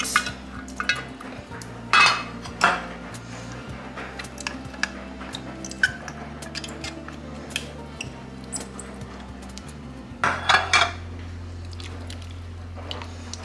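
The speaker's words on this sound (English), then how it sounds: "I'm going to make sure I got all the clams out of the cans" Canned clams scraped out of tins with a utensil, wet squishing and metallic scraping in short bursts over a low steady hum, near and without talking.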